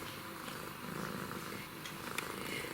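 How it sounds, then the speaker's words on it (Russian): A cat lying just beneath the camera purrs steadily and close, a continuous low rumbling hum with faint scratchy rustles, indoors during orchid repotting, with no talking. "Вы, наверное, все время слышите кота в камеру, потому что он просто лежит под камерой."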